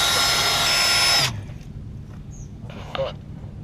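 A power drill whirs loudly for about a second, then cuts off, leaving quieter room sounds and a brief faint tool noise.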